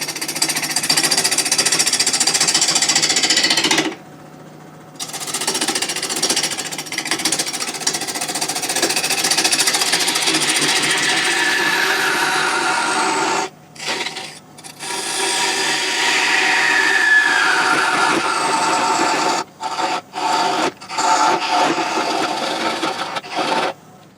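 A heavy wooden blank spins on a wood lathe at about 800 rpm while a tool takes steady cutting passes, making a loud continuous rasping, scraping drone broken by several brief pauses.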